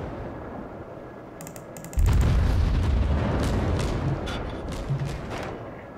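A Russian Navy warship fires its naval guns in World of Warships with a heavy booming salvo about two seconds in. A rumbling roar follows and fades over several seconds, with smaller thuds later and no talking.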